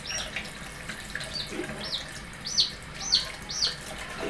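Running water rinses a bantam chick with pasty butt during a bath, a steady close stream of splashing with the chick's high peeps rising over it several times.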